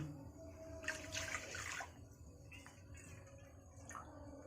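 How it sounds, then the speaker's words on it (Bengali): Water is poured from a bowl into a pot for rice flour dough in a home kitchen, a short splashing pour followed by quieter trickles and drips, close and faint. "3 বাটি জল দিচ্ছে"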